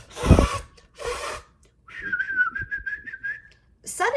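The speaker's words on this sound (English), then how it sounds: "Suddenly, out came a real whistle." A person whistles a wavering, tremulous tone for about two seconds, preceded by two short breathy blowing puffs that produce no whistle and followed by a brief breathy sound at the end.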